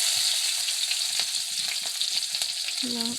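Onions fry in a pan with a loud, dense, continuous sizzle and hiss, close by, with faint stirring scrapes underneath.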